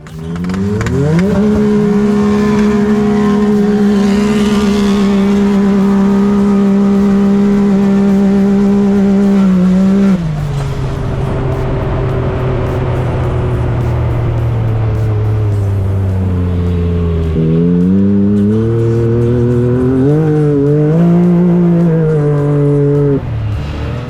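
Turbocharged Can-Am Maverick X3 side-by-side racing at the dunes, a loud close engine roar that holds high, drops back, then rises and surges again through repeated throttle changes.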